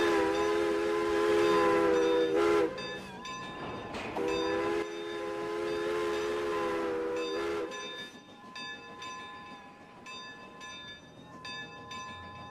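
Video-game train with an odd, goofy-sounding bell: strong sustained horn-like tones cut in and out in several loud bursts, then a scatter of short chiming bell hits toward the end, with no talking.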